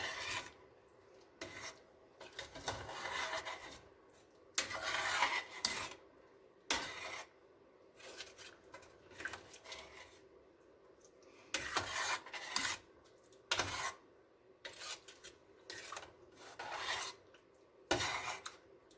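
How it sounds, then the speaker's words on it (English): A spoon scraping and rubbing around a pot of homemade chili, in uneven bursts of rasping strokes, close and fairly quiet with no voices. "Let's stir it up."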